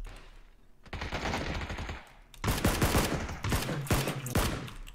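Rapid automatic gunfire in PUBG, bursts of loud close shots repeating in rapid strings, with a brief lull before a denser volley.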